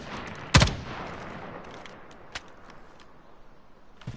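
Sniper rifle fire in a video game: one loud, sharp, close shot rings out near the start, followed by two fainter, shorter shots later over quiet background noise.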